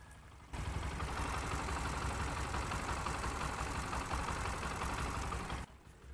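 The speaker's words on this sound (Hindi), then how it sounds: "इतना कुछ ओपन के फिर भी अभी बाइक का नया जैसा साउंड आ रहा है" A Bajaj Pulsar NS 125 motorcycle engine, after a timing chain replacement, idles steadily and evenly close by, a low continuous chugging that starts abruptly and cuts off near the end.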